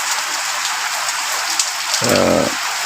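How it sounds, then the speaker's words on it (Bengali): Steady rain pours at night over a school area in Fatikchhari, Chattogram, the first rain of the season. It makes a dense, even hiss close by, with a short low tonal sound breaking through near the end. "প্রথম বৃষ্টি পড়তেছে আজকেই আমাদের চট্টগ্রামে। বৃষ্টি হচ্ছে"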